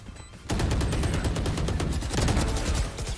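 Rapid gunfire bursts in the shooter game Valorant begin abruptly after a brief quiet moment and continue as dense, repeated loud cracks for about three seconds, close and with no talk.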